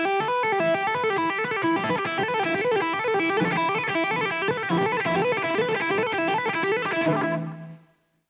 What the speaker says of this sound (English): our next figure takes the same idea and turns it into a sextuplet, a 6-note figure